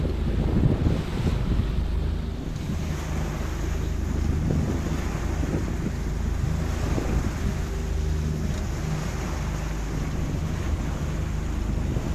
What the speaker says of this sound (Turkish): Zaman zaman büyük dalgalar var.